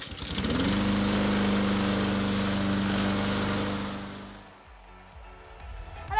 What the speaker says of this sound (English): pull really hard and the lawnmower will start